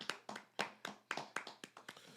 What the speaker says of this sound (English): can we just clap it up for the women this summer?